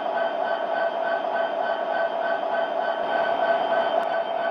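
Steady diesel locomotive rumble from an MTH Premier Union Pacific SD70ACe model train's sound system, a continuous idling drone held at even loudness with no talk.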